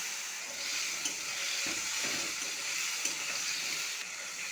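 Cut potatoes sizzle softly in hot oil with bay leaf and five-spice, a steady faint hiss broken by a few quiet stirring scrapes, close by with no voices.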